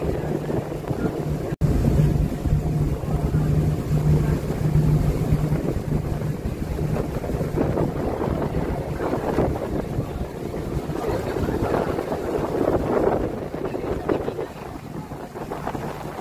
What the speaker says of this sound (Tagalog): Ay, ang hangin.